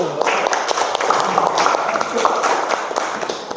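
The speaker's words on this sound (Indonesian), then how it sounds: "Kita beri aplaus kepada kelompok 1." An audience in a classroom applauds a student group after its presentation, a steady wash of clapping over the whole stretch with voices underneath.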